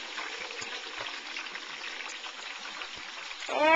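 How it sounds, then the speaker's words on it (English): Hot oil overflowing from an overfilled outdoor turkey fryer for Thanksgiving, a steady close trickling, pouring sound that swells slightly at the end. "I put in too much oil. It's overflowing."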